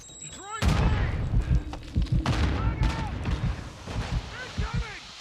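A grenade detonates in Call of Duty Modern Warfare II amid a burst of loud gunfire and booms, with in-game voice callouts and whistling tones woven through the chaotic, dense battle noise.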